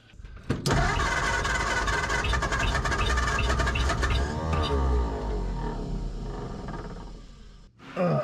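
A barn-find 1947 Ford coupe's flathead V8, abandoned for 15 years, cranks and catches, then roars loudly and steadily close by, its revs slowly sagging near the end before a brief surge.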